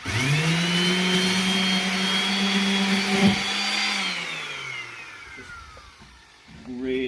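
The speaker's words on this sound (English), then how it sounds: "I've taken some very coarse 40 grit sandpaper on an orbital sander, and I'm just going to start" An orbital sander fitted with coarse 40 grit sandpaper runs as a loud, steady motor whine, then gradually winds down, followed by a few brief scuffing sounds at the end.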